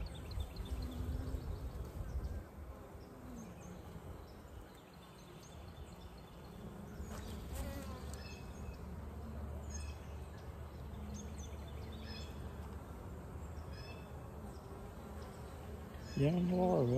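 Honeybees buzz softly and continuously close by at an open hive during inspection, a faint, steady hum with occasional louder passes, and a brief voice near the end.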